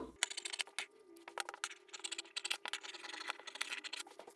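Scissors cut a fabric pattern piece for a puff-sleeve blouse, making a close, busy run of quick crisp snips and clicks at a soft level.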